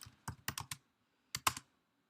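Typing on a computer keyboard while coding an Android tip calculator app, with a quick burst of four or five keystrokes, a pause, then two or three more, close and clear with no talk.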